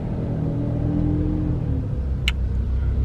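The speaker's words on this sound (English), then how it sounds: "that was a loud truck." A loud truck passes close by, its deep engine rumble steady and heavy for the whole stretch, with no talking over it.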